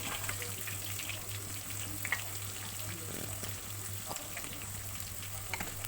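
Onions, green chillies and cumin seeds fry in hot oil for a small-fish curry, producing a constant faint crackling sizzle with occasional stir clicks over a steady low hum.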